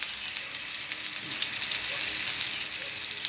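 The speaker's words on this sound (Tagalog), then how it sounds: "Dinisa na natin ang sibuyas." Onions sautéing in a hot pan before corned beef goes in, a dense, even crackling sizzle heard up close with no break.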